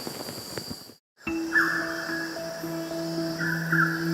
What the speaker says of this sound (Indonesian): Nyanyian merdu burung-burung liar membuka pagi saya.